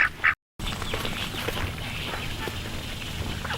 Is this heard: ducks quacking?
yes